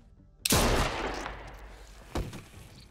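Gunfire in The Walking Dead: A New Frontier video game: a loud, sharp shot with a long decaying tail, then a second, quieter shot about 1.7 seconds later, with no talking.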